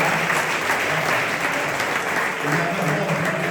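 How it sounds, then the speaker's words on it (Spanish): An audience at a solar photovoltaic industry meeting applauds a speaker with sustained, even clapping from a sizeable crowd, dense and steady throughout with a faint voice underneath. "sido un aplauso para Fran"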